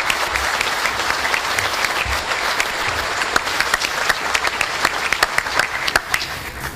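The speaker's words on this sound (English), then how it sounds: "How about a round of applause for the 25th ID team?" A crowd claps steadily through a round of applause at a SOCPAC change of command ceremony, dense and loud with sharp individual claps standing out near the end.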